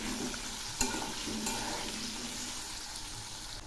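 Salt and turmeric are stirred into frying Malabar spinach in a pan, giving a steady close sizzle with soft spoon scrapes and a couple of sharp taps.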